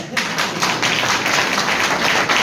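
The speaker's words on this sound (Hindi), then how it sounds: "एक बार ताली बजाइए" An audience claps together at a banking audit seminar, producing a dense, steady patter of many hands that starts abruptly and holds at an even level throughout.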